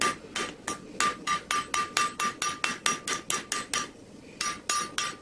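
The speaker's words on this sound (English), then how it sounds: "The peen of the hammer puts all the strength into one singular point, so it helps draw out the metal a lot easier." A hammer peen strikes hot metal while a knife is forged, about twenty sharp ringing blows in a steady rapid rhythm with a brief pause near the end, close and loud.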